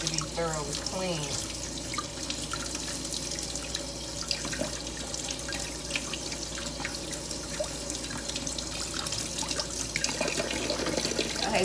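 Mushrooms being washed under a running kitchen tap, a continuous close splash of water over the sink with dripping and handling sounds, steady throughout.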